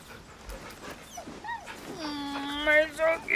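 A dog whines and whimpers in Baldur's Gate 3, high drawn-out tonal cries rising at the end, close and fairly clear, following a few soft sounds and brief speech.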